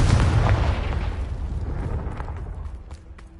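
Confringo fire spell explosion in the Hogwarts Legacy video game: a loud booming blast up front that rumbles and slowly decays, with faint crackling bursts trailing off.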